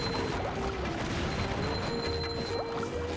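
Cannons firing in Downtown Bikini Bottom in the SpongeBob SquarePants: Battle for Bikini Bottom video game, repeated crashing blasts over busy game music and effects, continuous and fairly faint.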